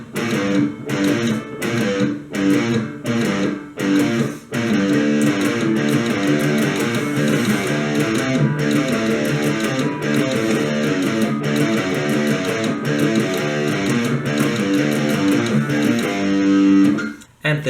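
Distorted electric guitar plays the intro of a song, a steady run of loud, rhythmic chugging notes and chords with short stops early on, continuing densely for about seventeen seconds with no voice.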